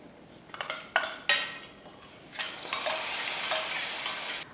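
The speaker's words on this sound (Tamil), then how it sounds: "ஸ்டவ் ஆஃப் பண்ணிவிட்டு கொஞ்சமாக கொத்தமல்லி, நம்ம தாளிப்பு சேர்த்துடலாம்" Hot tempering (tadka) poured into papaya rasam, with a few clinks of a pan and utensil followed by a sustained, bright sizzle that holds steady until it cuts off.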